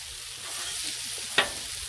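Paella with chopped onion sizzles on a hot griddle, a steady close frying hiss broken by one sharp scrape or clink partway through.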